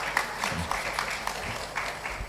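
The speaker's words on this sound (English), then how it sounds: "A round of applause for our sponsors," Conference audience at a business law event claps for sponsors, with moderate, somewhat sparse clapping and a few distinct individual claps standing out in a roomy hall.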